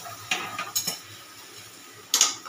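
A utensil scoops fried flat beans out of a pan, giving a few quick metallic scrapes and clinks against quiet background, no talk.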